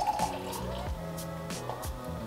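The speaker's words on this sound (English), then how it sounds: "And now we're gonna go ahead and pour our champagne in." Champagne is poured into a cocktail glass, giving a bubbly liquid gurgle with several glugging drops and fizz, close up and moderately quiet.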